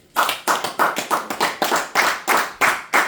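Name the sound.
church congregation applauding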